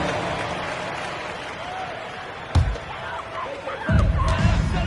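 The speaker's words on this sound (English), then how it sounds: "Round of applause." Crowd applause and cheering swell from a sports arena in an NBA 2K basketball video game, 76ers at Jazz, rising in bursts with faint squeaks and announcer-style ambience underneath.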